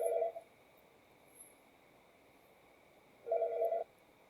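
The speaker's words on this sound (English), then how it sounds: "Got a phone call while I was doing this." A telephone rings for an incoming call: two short electronic ring bursts separated by a few seconds of quiet, fairly faint and alone without talk.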